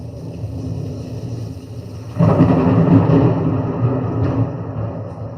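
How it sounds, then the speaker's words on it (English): Thunder breaks suddenly into a low ambient background, rising into a loud, broad rumble that rolls on for a few seconds before slowly fading. "the thunder doesn't clap at all the most convenient times"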